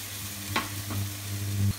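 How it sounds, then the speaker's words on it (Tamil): Mushrooms fry lightly in a pan for vegetable noodles, a soft sizzle with a few stirring scrapes over a low steady hum. "நம்ம மஷ்ரூம் போடுறத தனியாக போட்டுக்கலாம். போட்டு லேசாக ஃப்ரை பண்ணுங்கள்."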